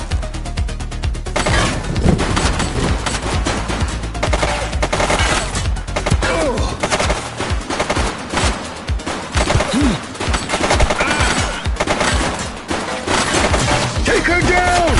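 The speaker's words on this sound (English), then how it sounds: "She's shooting!" Rapid bursts of gunfire from a police shootout in the video game The Precinct crackle densely throughout, with music and radio chatter mixed in underneath.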